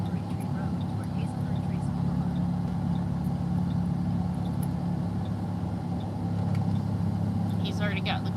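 A car left running to keep the cabin cool for a hot, heavy dog, its engine idling as a steady low drone throughout, with faint birdsong and small ticks over it.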